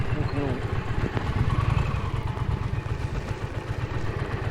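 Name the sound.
motorcycle being parked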